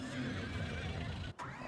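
Horses in the Farming Simulator 19 video game whinny in a short, clear burst, with faint hoof clops in the background and no talking.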